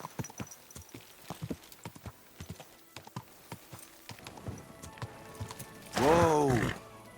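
Horse hooves clip-clop in a steady walking rhythm in the video game Kingdom Come: Deliverance 2, close and crisp, followed by a loud whinny near the end.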